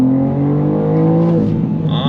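A 2024 BMW M2 with a six-speed manual pulls hard on throttle, its engine note climbing steadily in pitch at close range with no voices over it, then easing off near the end.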